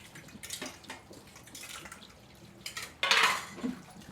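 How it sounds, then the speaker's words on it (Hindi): Dishes, pots and utensils being washed by hand: irregular metallic clinks and clatters mix with splashing and running water, close by, with a louder burst of clanking and rinsing toward the end and no speech. "पहले बर्तन ला धो देत जी"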